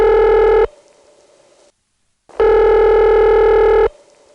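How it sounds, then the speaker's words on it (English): Bowling Green telephone ringback heard over a carrier trunk with companding noise near a 1977 NX2 crossbar exchange in Ladysmith, Virginia: two loud buzzy ring bursts separated by a pause, each trailing off into faint hiss. "And the Bowling Green ring on one of those trunks sounds like this."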